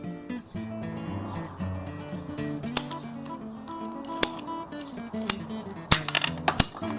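Pipe is cut for a homemade evaporative cooler frame, with several sharp snapping clicks from the cutter spaced irregularly over a steady tonal background.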